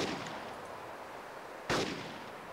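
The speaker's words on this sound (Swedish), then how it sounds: "Han bakom ambulansen skjuter." A single sharp gunshot in the video game ArmA 2 cracks out after a stretch of low, steady background noise, then rings off briefly.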